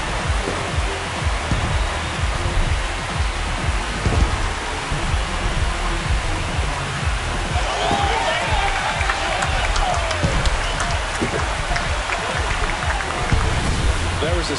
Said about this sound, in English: This crowd has really come alive.